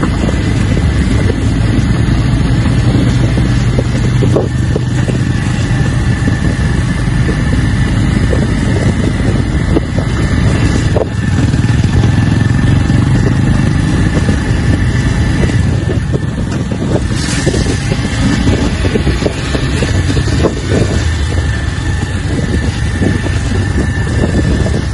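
A motorcycle ridden up a steep hillside track gives a continuous engine drone, heavily buffeted by wind noise across the whole ride with no pauses.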